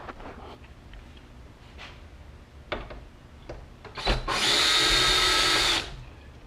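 A power screwdriver backs screws out of the grille on a 2016 Toyota Tacoma TRD Pro; a few soft clicks and handling knocks give way to one loud, sustained high whine of the driver spinning before it winds down.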